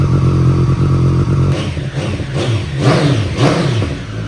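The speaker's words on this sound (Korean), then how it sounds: "819cc 3기통 엔진." A racing-spec 819cc three-cylinder 820RR motorcycle engine idles with a low, throbbing rumble, then blips its throttle several times in quick revving bursts, close and loud.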